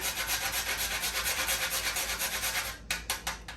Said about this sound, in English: I'm gonna go ahead and proceed to start grate up some nutmeg in here